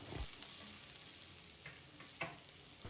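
Green chillies and tomato pieces fry in a pan for peanut chutney, a faint, even sizzle broken by a few soft stirring knocks.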